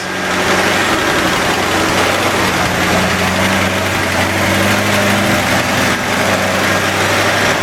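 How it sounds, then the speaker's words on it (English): A junkyard V8 engine idles steadily and loud up close. Ticking lifter noise rides on top, and the rumble gives a slight, uneven miss. No one speaks. "Bit of overhead noise, that'll be from the lifters, and a tiny bit of a miss."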